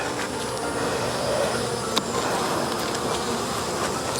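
Dense, continuous buzzing of many honeybees around an open hive close by, a steady hum filling the air with a brief tap partway through.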